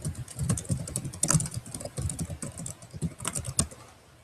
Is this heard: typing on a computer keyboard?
yes